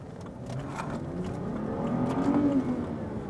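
A BMW sports car with a naturally aspirated engine accelerates from inside the cabin, its steady engine drone rising in pitch and loudness over a few seconds, with no voices.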